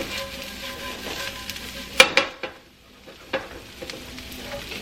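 Garlic and potatoes fry in a pan with a soft continuous sizzle, broken by a few sharp clinks and scrapes of stirring near the middle.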